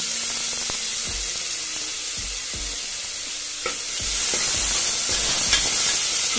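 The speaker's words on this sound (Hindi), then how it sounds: "ये मैंने लिए हैं 3 मीडियम साइज के प्याज और इन्हें हम अच्छे से सौते करेंगे।" Sliced medium onions sautéing in ghee inside a pressure cooker, a loud continuous sizzle with repeated dull knocks of a spoon stirring against the pot, the frying hiss brightening toward the end.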